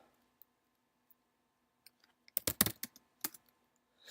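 Burst of clicky typing on a computer keyboard while entering a sudo command during a Unix agent install, quiet idle pauses first, then a quick cluster of close keystrokes and a few final taps.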